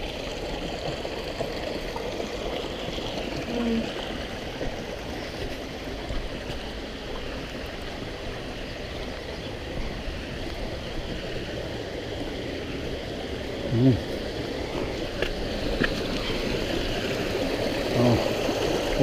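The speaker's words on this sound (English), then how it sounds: "And so we're walking alongside the water now." A clear creek in the Zion–Bryce area flows over rocks in a steady, soft rushing wash heard from the bank, with a few faint bumps and no talk.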